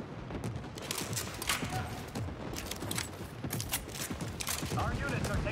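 A laser gun fires repeatedly in a video game battle, producing a steady stream of sharp shots mixed with other combat noise, while voices speak faintly underneath.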